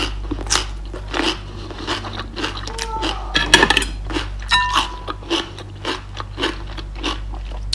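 Crisp crunching bites into fresh cucumber repeat close up in a kitchen, with short chewing crackles between them and some faint background voices.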